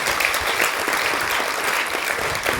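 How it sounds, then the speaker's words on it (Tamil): Steady applause from parents for the teachers at a school parent-teacher meeting, an even wash of many clapping hands throughout. "எங்க டீச்சர்ஸுங்களெல்லாம் ஒரு கைத்தட்டு தட்டிடுவோம்."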